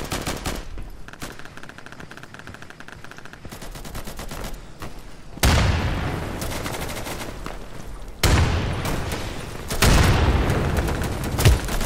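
Gunfire in the tactical shooter Insurgency rattles in sustained machine-gun bursts, with several sudden loud volleys and booming impacts breaking in every few seconds and a continuous crackle underneath.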